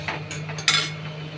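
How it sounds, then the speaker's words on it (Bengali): A spoon scrapes and clinks against a pan while rohu fish curry is stirred with ground coriander paste, a few short scraping strokes over a steady low hum, fairly close. "ধনে পাতা বাটাটা দিয়ে নাড়াচাড়া করব"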